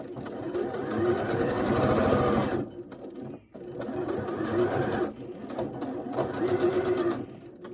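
Sewing machine running steady bursts of stitching along a curved seam of a quilt block, two long runs with a short pause between, close and loud with no talk.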